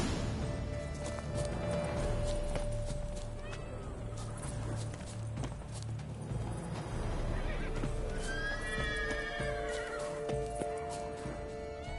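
A horse in The Witcher 3: Wild Hunt video game whinnies and snorts over a busy background of clip-clopping hooves and ambient noise, with a drawn-out neigh near the end.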